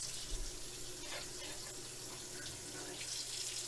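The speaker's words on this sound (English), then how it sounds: "And I just pour the rest through the filter" Water pours steadily through a French press filter into a kitchen sink, a continuous close splashing rush of coffee-laden liquid with no talking.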